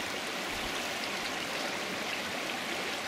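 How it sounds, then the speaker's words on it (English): A small waterfall spills from rocks at a gold-hunting spot, a constant close rush of splashing water with a soft hiss, steady and unbroken, with no voices. "There's a little waterfall coming out of there."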